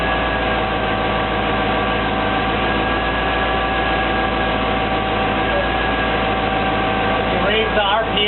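Constant loud engine idle with a steady mechanical hum and even tone, unchanged throughout, with a faint rattle near the end.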